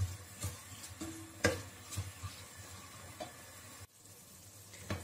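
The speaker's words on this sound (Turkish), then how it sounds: "Havuçlarımı da yağda şöyle bir güzelce çevirdikten sonra" Carrots sizzle quietly in hot oil over high heat under scattered stirring clicks and scrapes from a utensil, close and fairly soft.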